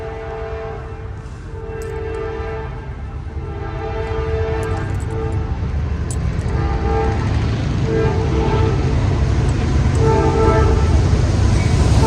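A northbound intermodal freight train approaches and passes in Easley near Greenville, South Carolina, its horn sounding in repeated long blasts over a rumble that grows steadily louder and closer.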